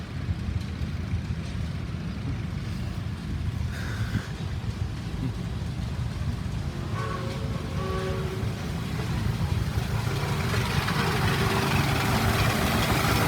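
A Lego V10 model engine runs at a power show, a steady low mechanical whirring and chattering that carries on throughout amid outdoor background noise, growing slightly louder toward the end.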